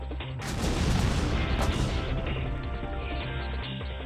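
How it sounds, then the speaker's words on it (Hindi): A WWII-era American bomb detonates near Miyazaki airport in southwest Japan: a loud, sudden broadband blast followed by a long, rumbling roar that slowly decays over several seconds. "एक धमाका हुआ और आसमान धुआं हो गया।"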